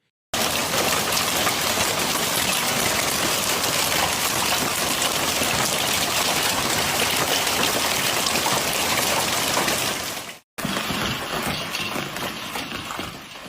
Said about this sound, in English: torrents of water mixed with hail rushing through the streets, sweeping along debris, leaves, and mud.